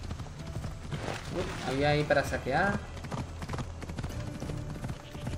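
Horse hooves clip-clopping at a steady pace in the Assassin's Creed Odyssey video game, a rhythmic thudding run beneath game sounds while someone talks over it.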